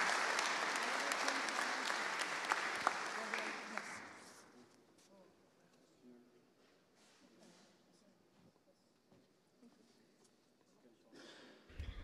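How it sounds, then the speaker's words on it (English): A conference audience applauds for about four seconds before a keynote talk, then the clapping fades into a quiet room with faint shuffling and murmurs. "Give her a big applause."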